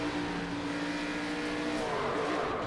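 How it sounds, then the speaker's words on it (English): In a racing video game at Homestead Miami Speedway, a race car engine drones loud and steady, revving in reverse. Its pitch shifts and warbles partway through. No one speaks. "That's revving in reverse."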